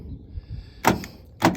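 Power door locks on a 1988 Toyota Land Cruiser FJ62 actuate in two short, sharp mechanical thunks about half a second apart, close and fairly loud over a quiet background.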